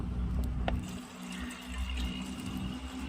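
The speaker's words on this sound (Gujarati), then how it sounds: "આપણે થોડુંક જ નાખશું ને પાણી." Water is poured in a steady stream for brewing strong country-style tea with friends in a village setting, a continuous liquid rush filling the vessel without pause across the short stretch, close and moderately loud with no talking.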